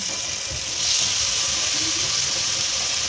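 Sliced marinated chicken frying in oil on a griddle gives a steady bright hiss with soft crackle throughout. The sizzle swells slightly near one second and stays constant after that.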